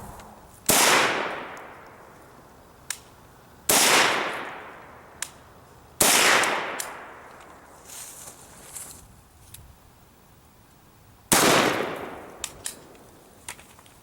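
Arsenal SGL-31 AK rifle firing 5.45x39 Golden Tiger FMJ rounds into ballistic gel: four loud, sharp shots spaced a few seconds apart, each with a long reverberant tail and small metallic clinks between them.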